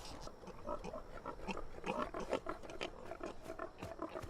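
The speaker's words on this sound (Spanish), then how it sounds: "debemos buscar un camino alrededor de esos cerdos" Pigs grunting and snorting in a dense, continuous chorus, steady throughout at moderate loudness with no voices over it.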